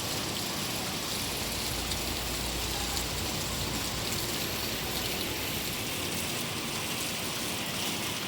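Steady, dense rain falling outdoors, a continuous close hiss of drops on surfaces with no pauses.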